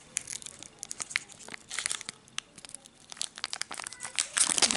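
A Pokémon Ultra Prism booster pack's foil wrapper crinkles and tears open in a run of sharp, close rustling bursts that grow denser and louder near the end.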